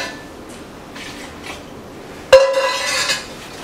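A spoon scrapes and clinks against a pan as stock is stirred into asparagus risotto rice. After a quiet stretch comes a sharp metallic knock, followed by a burst of wet stirring.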